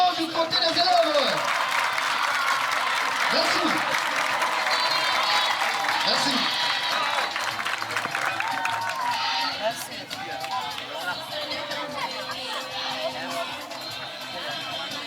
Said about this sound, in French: Encore des applaudissements du côté des élèves.